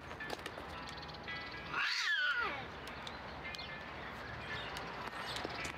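A cat meows once in the video game Lost in Play, a single rising and falling call near the middle, moderately loud over steady background music with no talk.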